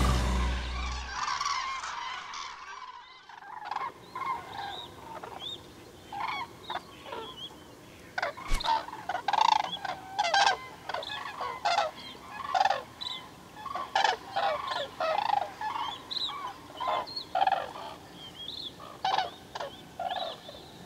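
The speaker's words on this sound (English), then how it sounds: "The wild geese calling wake our souls to life." Wild geese calling in a wetland, a flock's overlapping honks and cackles repeating in busy bursts, loud and fairly close, after a brief quieter opening.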